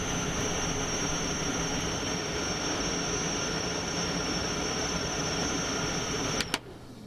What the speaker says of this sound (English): But first of all, we've got the internal fans. There are two settings for these.